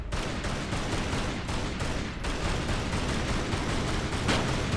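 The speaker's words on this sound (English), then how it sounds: "I'm going to shoot this." Gunfire in Tomb Raider: Anniversary on the Wii, a dense, loud burst of shots and booming impacts over a constant rumbling game backdrop, with a brief sharper report near the end.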